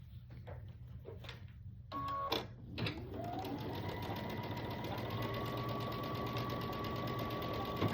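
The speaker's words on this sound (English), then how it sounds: "Lay one right sides together, stitch down this line here," A sewing machine stitches quilt block pieces together in a quiet room, its fast mechanical whir starting after a few soft handling noises and then running evenly and close by for several seconds.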